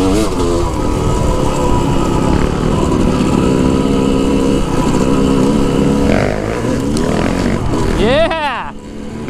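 Dirt bike engine running steadily and loud on a forest trail, with a continuous close drone throughout and a brief rising whine near the end as the throttle changes.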